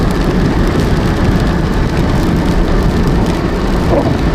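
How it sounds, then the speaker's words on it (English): Steady, loud rain hisses throughout on a drive through the Yukon past a river and slide area, a dense broadband wash with a low rumble underneath and no voices. "it's kind of rainy"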